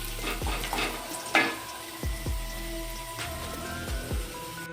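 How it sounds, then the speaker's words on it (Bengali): Potato pieces frying in oil in a pan for a home chicken curry, giving a steady close sizzle with a few soft clinks and stirring knocks throughout. "আলু লাল লাল করে ভাজা হয়ে গেছে"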